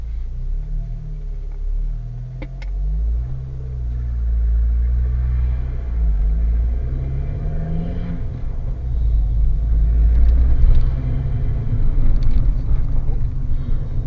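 A car pulls away during a mock driving test, heard from inside as a low, steady engine rumble that builds gradually as it drives on, with occasional faint talk.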